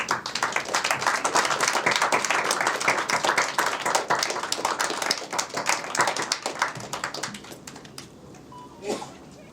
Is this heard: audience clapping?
yes